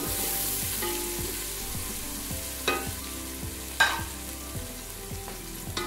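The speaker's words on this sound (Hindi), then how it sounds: "अब अदरक लहसुन को थोड़ा सा पका लेंगे" Garlic and ginger sizzle and fry steadily in a pan with golden onions, with soft stirring scrapes and a few sharper clinks of a utensil against the metal.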